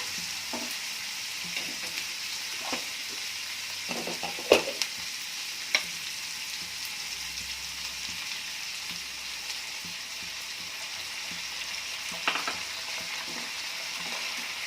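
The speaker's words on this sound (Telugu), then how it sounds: "ఆలు ముక్కలు వేసి అంతా ఒకసారి ఇట్లా తిప్పి మూత పెట్టుకొని" Potato pieces fry in a broccoli, potato and tomato curry, giving a steady, fairly soft hiss with a few scattered knocks and scrapes as the pan is stirred.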